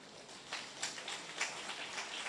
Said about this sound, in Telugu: గట్టిగా చప్పట్లు కొడతారా?